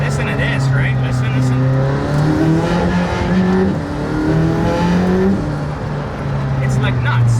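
An exposed-carbon McLaren Senna engine revs hard on the move, a loud, steady roar climbing and falling through several rising pitch sweeps as it accelerates and shifts.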